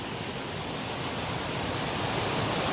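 Swollen river rushing after a night and day of heavy rain: a steady, fairly faint broadband roar of flowing water with no break.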